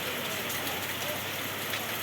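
Steady rain falling in an evening downpour near a farm field and plantation, a dense, even hiss that stays constant and fairly loud throughout with no clear voices.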